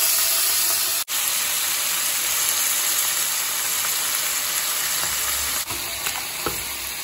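Pieces of bottle gourd hiss and sizzle loudly and steadily in a hot pan for Telugu-style milk curry, with a couple of brief sharp breaks in the sound and no one speaking.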